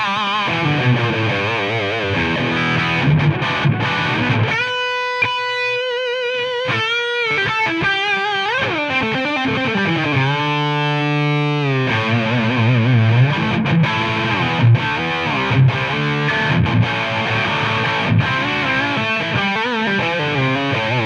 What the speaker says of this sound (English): the last level, kind of the most overdrive you're going to get out of this amp.